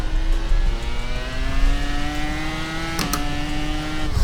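An iRacing IR-01 race car in a video game screams at high revs, the engine pitch sweeping and holding through a gear shift, with tire noise as the rear steps out.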